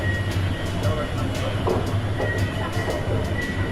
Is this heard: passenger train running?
yes